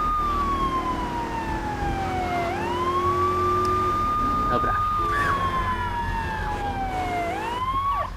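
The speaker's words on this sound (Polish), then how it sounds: "Możemy wyłączyć syreny." Police car siren in Grand Theft Auto III, a loud continuous wail sweeping slowly up and down over engine rumble, with someone briefly speaking over it.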